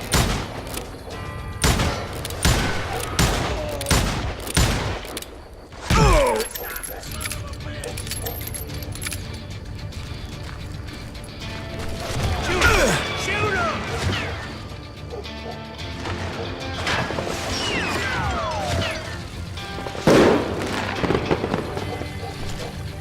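Gunfire in the Western shooter Call of Juarez Gunslinger: a fast run of sharp, loud shots opens the passage, then single reports come at scattered moments later, mixed with shouting voices and game ambience.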